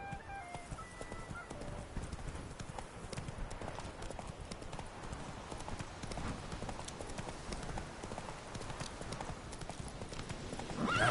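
Hooves of Roach, the horse in The Witcher 3, keep up a steady galloping clip-clop for the whole stretch, with faint game ambience underneath and a swell in level at the very end.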